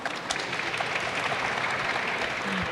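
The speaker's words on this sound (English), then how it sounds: "while we're clapping" An audience claps at a Jerusalem Post conference event honoring United Hatzalah volunteers, a steady dense wash of applause with no break, moderately loud throughout.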